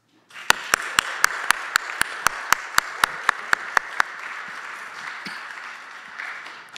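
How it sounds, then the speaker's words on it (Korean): Congregation applause welcoming a new member at a Friday youth worship service, a steady crowd clapping with one sharp, evenly paced clap standing out above it for several seconds before the applause fades to a softer murmur. "새가족 한 분 일어서 주시고 우린 박수 치면 됩니다"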